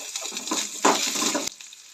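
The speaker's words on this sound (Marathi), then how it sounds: "कांदो आनी लसूण बरें परतून घेवंक जाय" Onion and garlic sauté in a pan for a brief moment, a close, uneven hiss with soft scraping stirs and a quick knock partway through.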